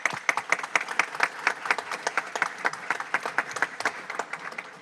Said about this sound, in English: We'll give them a quick applause.